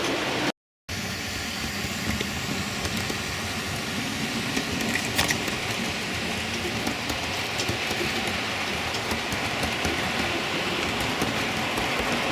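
A model railway class 08 shunting locomotive runs along the track with a continuous rumbling, rattling drone that stays steady and close, broken only by a brief dropout near the start, with no talking.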